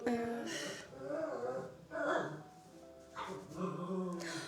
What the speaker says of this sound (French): Et voilà mon chien.